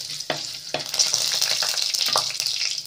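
Whole spices (cinnamon, cloves, fennel, cardamom, pepper, cumin and a bay leaf) splutter in hot oil for a village-style chicken curry, a dense close sizzle with sharp pops and stirring taps.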